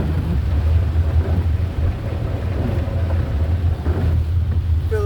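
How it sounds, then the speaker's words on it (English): Heavy rain pours down in a dense, continuous roar, with a low rumble and wind buffeting underneath. "it's raining so hard it's flooding"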